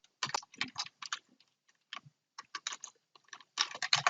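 Rapid bursts of typing on a computer keyboard while entering a title in an Excel spreadsheet, with clustered key clicks separated by short pauses and a dense flurry at the end, close and clear with no talking.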